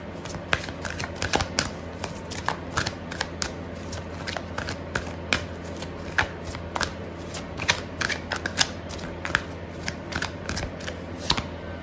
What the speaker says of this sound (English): Okay, so I'm gonna pull out another card for you